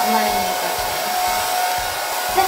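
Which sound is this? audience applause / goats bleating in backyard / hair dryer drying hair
hair dryer drying hair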